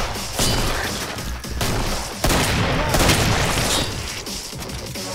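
Heavy gunfire from a big gun in the video game Killing Floor, dense overlapping booming bursts that run almost without pause throughout, loud and close.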